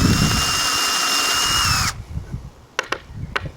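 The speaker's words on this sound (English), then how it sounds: "I want to stop with my drill just short of halfway through" A power drill bores a hole into a wooden guide stood on its edge, whining steadily and close up for about two seconds before stopping, followed by a few faint knocks.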